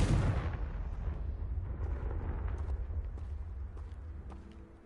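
A Confringo fire spell blasts in the game Hogwarts Legacy, opening with a loud booming burst that rolls into a long rumbling decay, followed by faint scattered debris and clatter as it fades.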